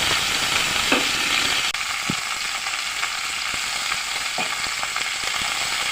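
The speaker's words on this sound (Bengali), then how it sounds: "নুনটা দিয়ে আমি আগে ভেজে নেবো বেগুন জারে হালকা করে" Eggplant pieces frying in hot oil in a pan, with salt added, for a rohu fish and eggplant curry: a steady, dense sizzle runs throughout, with a few faint clicks and pops over it and no talking.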